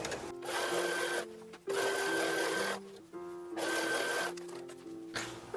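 A sewing machine runs gathering stitches on an early-1900s infant dress, whirring in three long close bursts separated by short pauses.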